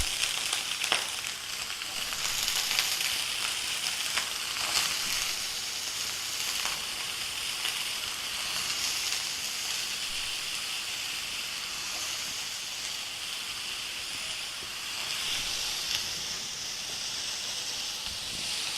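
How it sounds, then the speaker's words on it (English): Diced potatoes fry in a pan, a close, continuous crackling sizzle with occasional louder spits and slight surges of intensity over the full length, heard alone without talking. "And then add your potatoes which you have cut into dices"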